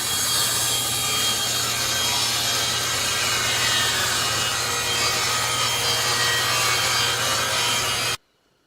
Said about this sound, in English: Now that I have ran these 3/4 inch pieces through the table saw to a 4-inch width